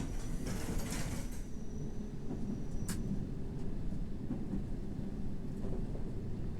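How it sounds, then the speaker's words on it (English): A London Underground train rumbles past on the opposite track in the railway simulator WoS 3, a steady low drone running throughout with faint mechanical clanks and a brief high squeal near the middle. "Another ops train on the opposite tracks."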